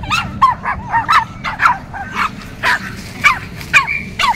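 Several pet dogs barking and yipping after anti-rabies shots, a run of short sharp barks and whimpers close by, with faint background noise.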